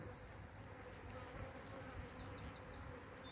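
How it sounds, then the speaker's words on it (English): A honey bee swarm buzzing in a continuous, dense drone that stays steady throughout, with faint chirping birds in the background. "We've got another swarm."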